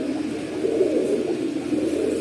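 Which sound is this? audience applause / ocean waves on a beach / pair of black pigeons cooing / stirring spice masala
pair of black pigeons cooing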